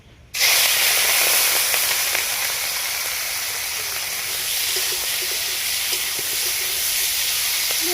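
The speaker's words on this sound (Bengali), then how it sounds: "এই তেলেই মাছগুলো ভেজে নেবো" Fish, prawns by the recipe, frying in mustard oil in a pan, a loud steady hiss and sizzle that starts abruptly and continues evenly throughout, with no talking.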